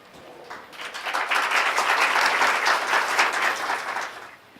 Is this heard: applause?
yes